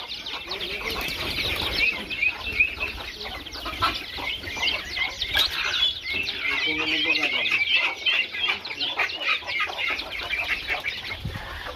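Chickens and ducks on an organic homestead farm cluck and chatter in a busy, continuous chorus nearby, with a few wing flaps and quacks mixed in, while a voice speaks faintly beneath.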